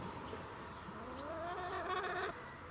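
Hens in a vegetable garden give a drawn-out, rising cluck over a steady outdoor background hiss, fairly faint and with no talk.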